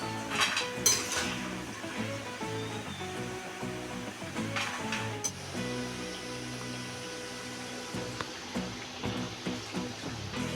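Masala cashew biscuits fry in hot oil with a steady sizzling hiss, punctuated by occasional clinks of a utensil against the pan, close and moderately quiet.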